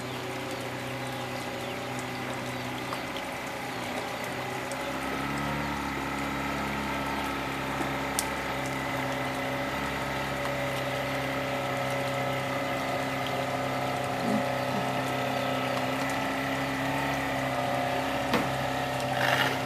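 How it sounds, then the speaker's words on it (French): A boat motor runs steadily on a river in Borneo, a continuous close mechanical drone with a low hum and broadband chatter that stays even throughout, with no voices. "Le moteur."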